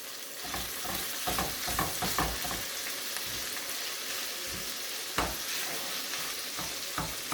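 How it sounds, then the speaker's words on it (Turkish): Ground beef sizzles and crackles steadily in a hot pan, with scraping and stirring sounds throughout as the meat is mashed and fried until its juices cook off. "kıymayı eze eze suyunu salıp çekinceye kadar kavuralım"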